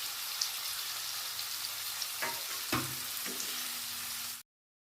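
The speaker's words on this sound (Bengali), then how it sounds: "পনির হালকা লাল করে ভাজা হয়ে গেছে" Homemade paneer, about 250 grams, frying in a pan with a steady soft sizzle throughout, broken by a few brief clinks and scrapes as it is stirred, ending abruptly.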